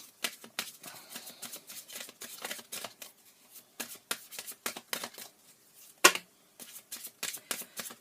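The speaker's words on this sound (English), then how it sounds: "I know the sound of the shuffling can be a little bit annoying." Tarot cards being shuffled by hand in a quiet room, a long run of crisp riffling bursts and soft slaps in uneven rhythm, close by, with one sharper snap near the end and no talking.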